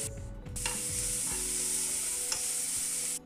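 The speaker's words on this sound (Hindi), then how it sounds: "दोनों को फ्राई करेंगे हाई फ्लेम पे फिर टमाटर और ये है फ्राई कलर" Capsicum, vegetables and tomato sizzling hard in a pan over a high flame for veg masala Maggi, a loud bright continuous hiss with stirring scrapes that cuts off abruptly at the end.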